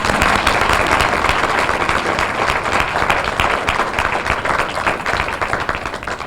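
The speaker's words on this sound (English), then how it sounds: "Let's give him another round of applause." Audience applause for a speaker at a Camden civic luncheon, a dense, sustained roar of many clapping hands filling the hall at steady loudness throughout, slightly easing toward the end.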